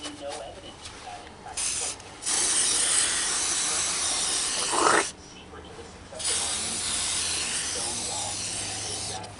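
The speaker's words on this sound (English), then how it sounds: "I'm going to spray some Amsoil metal protector." Several bursts of Amsoil metal protector aerosol spray hiss close up, separated by short pauses, with a longer steady spray in the middle and a brief scrape.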